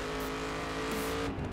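Race car engine in The Crew video game droning steadily at high revs, loud and close, with a slight tire squeal and no talking.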